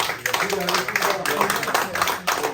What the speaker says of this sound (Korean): 박수를 한번 크게 쳐주십시오